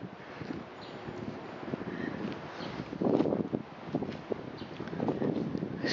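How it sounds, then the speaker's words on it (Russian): Dry, withered leaves on a lawn crunch and rustle underfoot in a steady, close shuffle as someone walks outdoors, with light wind and no talking. "Шуршат листики под ногами."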